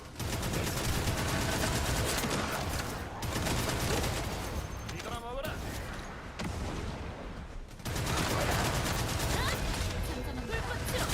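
Saw blade gun firing in The First Descendant, dense rapid mechanical bursts in long sustained streams with brief gaps, loud and close, with speech faintly mixed in.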